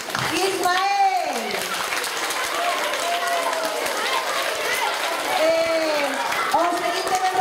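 A school talent-show audience claps and cheers for a participant. The applause is loud and sustained, with children's voices shouting over it throughout.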